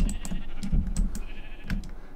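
Sheep in the Minecraft video game bleating in a few short, close, moderately loud bursts over a steady low background hum.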